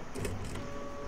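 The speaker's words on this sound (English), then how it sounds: "That fucking printer is still going off the chain." Printer running in the Fright Night video game: a brief, faint mechanical whirring and clattering burst with a couple of short rattling pulses, heard alone for about a second.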